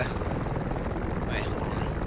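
Helicopters in the war game Men of War: Assault Squad 2, heard as a steady, dense rotor and engine drone that fills the whole stretch without a break, with a brief higher swish partway through.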